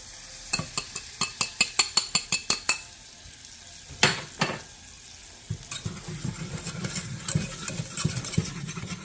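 Flour stirred into melted butter in a pot for cream of celery soup, with a run of sharp utensil taps against the pot and a low sizzle underneath, then softer scraping and stirring.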